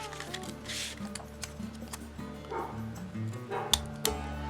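A dog barks in short yips and bow-wows during indoor papercraft work on a 3D box card, fairly faint, amid soft rustling and ticking.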